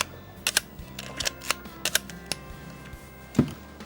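Several crisp mechanical clicks of a Leica M3 rangefinder camera shutter, spaced irregularly, with one heavier clack near the end.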